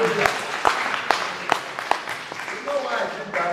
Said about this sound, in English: Let's clap for the mothers.